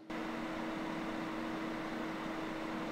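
Anker Powerhouse 767 portable power station recharging, its cooling fan running as a steady, even whir with a low hum, close and constant throughout with no talk.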